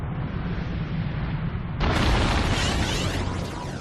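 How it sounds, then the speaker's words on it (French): A deep, rumbling explosion evoking the Tunguska meteor blast over the Siberian forest, a steady roar that surges abruptly louder midway and keeps booming, with no voices. "une explosion retentit au-dessus de la lointaine forêt sibérienne, sur les bords de la Tunguska"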